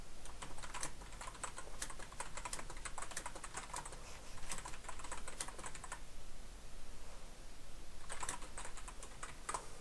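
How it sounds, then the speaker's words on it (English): Steady typing on a computer keyboard, close and fairly quiet, with quick runs of key clicks that stop briefly near the middle before a final short burst, no voices. "So I'm just going to type in some dummy content here."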